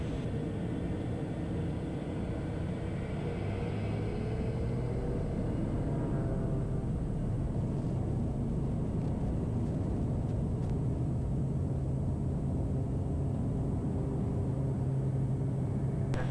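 A Piper Meridian turboprop takes off and climbs at night, heard as a steady, heavy broadband roar and rumble from inside the aircraft with no talk.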